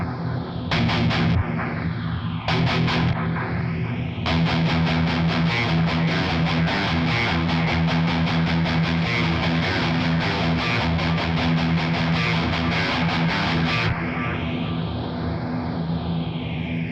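Heavy distorted guitar through a 5150 amp and a Source Audio Encounter pedal plays chunky palm-muted riffs in bursts, with stops and echoing, swelling delay tails ringing out alone.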